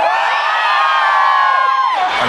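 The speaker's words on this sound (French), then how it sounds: "Essayez de crier comme les filles, les mecs." Concert crowd of men at the Les Ardentes 2014 festival screaming in high, girl-like voices, a dense sustained roar of many voices that rises and then drops off near the end.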